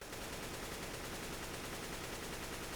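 Sustained AK rifle spray in CS:GO, a dense unbroken burst of rapid automatic gunfire filling the whole stretch at steady loudness, with no voices.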